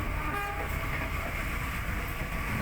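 The KA Serayu passenger train runs from Jakarta toward Bandung through the Jatinegara and Bekasi area, a steady loud rumble of wheels and carriages with a horn tone sounding briefly amid the continuous rolling noise.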